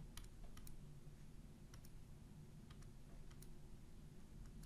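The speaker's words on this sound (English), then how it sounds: "type that straight into my calculator" Numbers are tapped into a calculator keypad: a quick series of faint, light clicks at an uneven rhythm over a low background hum.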